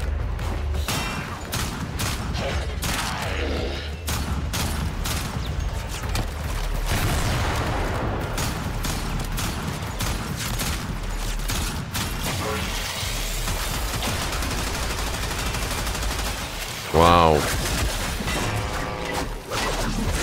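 Pistol shots ring out in the sci-fi shooter game Warframe amid constant game effects, with mechanical clicks, impacts and a dense layer of action sounds throughout, and one bright metallic burst near the end.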